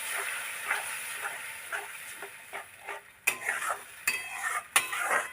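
A spoon scrapes and stirs chili, garlic and nigella seed paste frying in a pan, repeated clinks and scrapes over a soft steady sizzle, close and moderately loud.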